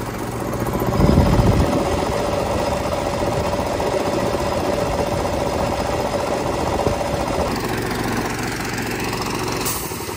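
A homemade Mega Godzilla burner and combustor runs hard at high throttle, giving a steady, loud, rough roar with a rattling buzz and a faint whine that eases slightly near the end.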